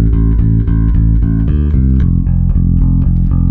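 A melodic bass line with added sixths and fifths above each root, steady repeated low notes with upper intervals chiming over them, loud and close with no voices.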